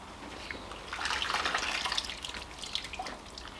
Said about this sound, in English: Now we're just going to drain it